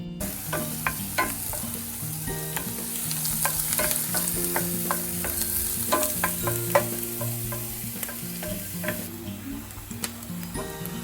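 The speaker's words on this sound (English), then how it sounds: "And then cook your chopped red onions." Chopped red onions sizzle and fry in melted butter in a pan over medium-high heat for pork belly sisig, with steady frying hiss and frequent clinks of a utensil stirring throughout.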